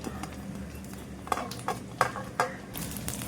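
Garlic fries in oil on a griddle for dry bombil chutney, giving a quiet sizzle under a few sharp clinks and scrapes of a spoon stirring it.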